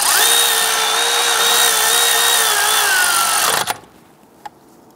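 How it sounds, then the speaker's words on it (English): Power tool driving a bolt into a water pump on a 1999-2004 Jeep Grand Cherokee 4.7L V8, a loud steady whirring whine that stops abruptly, followed by a brief clunk and a faint tap. "Let's go ahead and snug that bolt in."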